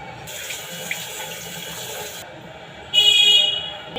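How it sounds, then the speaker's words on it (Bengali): Tap water runs steadily over a new clay pan as it is scrubbed with soap, a continuous close splash that cuts off midway before a brief, brighter burst of flow. "এখন আমি মাটির পাত্রটিকে পানি থেকে তুলে ফেলবো এবং ভালো করে এটাকে সাবান দিয়ে ওয়াশ করব"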